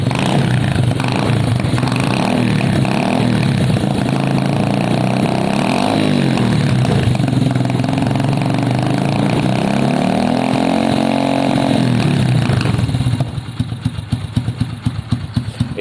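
A Lexmoto Brat motorcycle engine runs close and loud, with throaty rising and falling revs over a steady idle before settling into a choppy, pulsing idle at the end.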